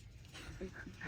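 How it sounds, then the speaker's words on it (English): A dog pants softly in a front yard during a backyard football game, a brief run of quick breathy huffs with a faint whimpering tone, quiet and close. "Hey, that's my dog."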